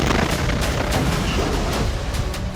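A loud, sustained blast with heavy rumbling and crackling bursts, like an explosion and gunfire echoing close by, as a Merkava tank is blown up in Jabalia camp, Gaza.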